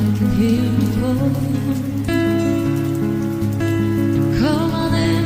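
Steady falling rain hisses behind a live song, spread evenly and fairly loud under sustained musical notes, with no break through the whole stretch.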